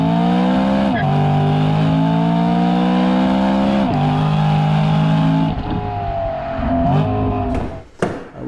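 A 2013 BMW E92 M3 Lime Rock Park Edition sings through its exhaust with the butterfly valve open, revving up through the gears with brief dips at each shift, loud and close, before easing off near the end.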